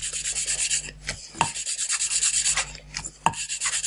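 Lapping valves by hand on a Renault 4L engine, a continuous gritty scraping rub with rhythmic back-and-forth pulses, close and steady, punctuated by a few sharper clicks as the valve is turned.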